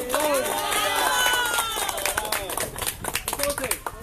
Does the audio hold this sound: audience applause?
yes